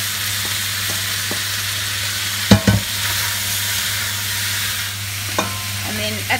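Wagyu beef stir-fried with par-cooked veggies, garlic, chilli and ginger sizzles steadily in a hot pan, broken by a couple of sharp tossing clanks, with no talking.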